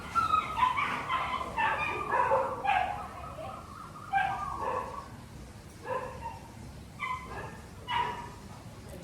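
Street dogs on a rainy monsoon day in Pattaya fight and bark, with a run of loud yelps, snarls and whimpering barks in irregular bursts close by. A voice talks over part of it.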